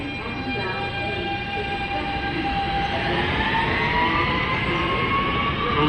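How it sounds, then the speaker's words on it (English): An R160B subway train built by Kawasaki, with Siemens traction motors, whines steadily as it runs on the E line toward Jamaica Center, tonal motor pitches drifting over continuous rail rumble, heard from onboard. "Those are Siemens traction motors you're listening to. R160Bs built by Kawasaki."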